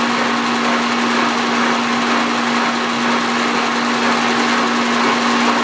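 A machine tool cuts a spline with the table feed raised to one inch a minute, giving a steady, loud mechanical whine with a constant tone that runs unbroken throughout.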